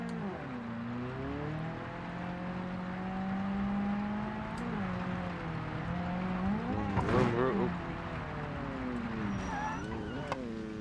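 A video-game car engine drones and shifts pitch continuously, with rising and falling revs through gear changes and a hard-working clutch, a steady mechanical hum throughout.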